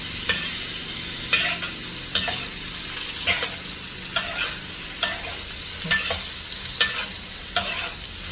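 Prawns frying in a wok, a constant bright sizzle broken by regular scraping strokes of a spatula about once a second, close and fairly loud.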